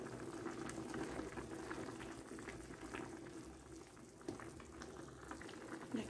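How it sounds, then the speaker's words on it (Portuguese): A pot of rice simmers at a steady rolling boil, its dense bubbling constant and fairly quiet throughout, heard close with no voices. "Olha que maravilha o arroz, né? Tá cozinhando aqui"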